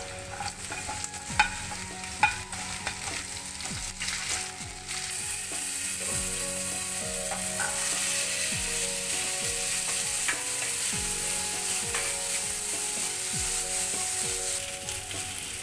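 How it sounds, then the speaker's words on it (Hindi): Onions sizzling in oil with green chillies for keto chana masala, a continuous close frying crackle under repeated scraping and stirring of a spatula against the pan. "थोड़ा फ्राई कर लें। अब हम इसमें डालेंगे प्याज"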